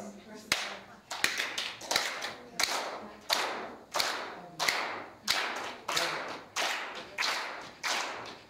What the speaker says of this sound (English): Can you guys clap?